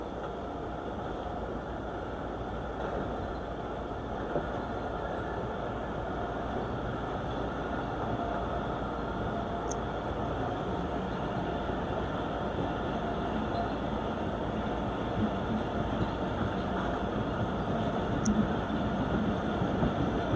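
Marvi Express train pulling out of Saindad railway station in Pakistan, a continuous steady rumble of wheels and engine that holds level and close throughout, no voices.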